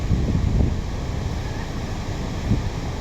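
Steady rush of sea waves breaking on Bagasbas Beach, Daet, Camarines Norte, with wind buffeting the microphone and low surges rising and falling throughout.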